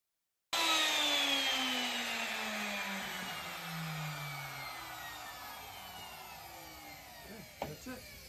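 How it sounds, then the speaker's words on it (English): A router cuts a wooden board guided by a clamped straight edge, a loud sustained whine that starts abruptly and slowly drops in pitch as the cut proceeds, with a brief knock near the end. "I've got this straight edge router guide on the edge and I've got it clamped on both ends to keep the board flat straight across"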